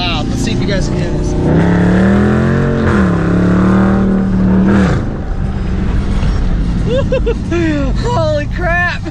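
A muffler-deleted 2017 Dodge Charger Daytona V8 revs loud and close, rising and holding a high roar before dropping back to a rumbling idle as excited voices talk over it.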